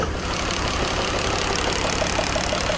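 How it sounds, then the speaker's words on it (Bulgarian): The idling engine of a BMW buggy runs loud and close, a dense steady rumble with an uneven knocking patter running through it. "Се чува лошо тропа"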